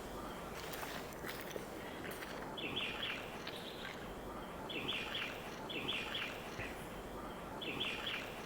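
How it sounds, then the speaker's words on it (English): A bird calls outdoors with short, bright chirping bursts repeating roughly every second in the second half, over a steady background of rustling and ambient noise, fairly faint and distant. "Such a lovely bird."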